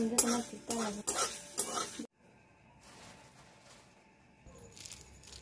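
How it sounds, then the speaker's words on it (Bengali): Panch phoron and other spices stirred in a heated kadai of oil for mango achar: about two seconds of loud, rhythmic metal-on-metal scraping strokes, then a faint, quiet sizzle with light clinks. "এদিকে কড়াইটা গরম করে এতে পাঁচফোড়ন আরও অন্যান্য মশলাগুলো ভালো করে ভেজে নিতে হবে।"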